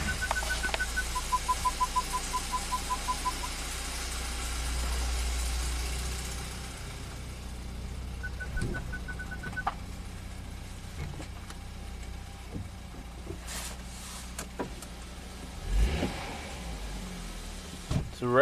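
BMW turbocharged engine with a malfunctioning wastegate, starting and then idling. A low, steady rumble follows a few electronic chime tones, with scattered clicks and light handling noises nearby.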